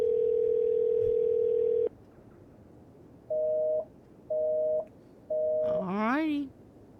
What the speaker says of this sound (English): I wonder what would happen if I call my neighbor's phone number now.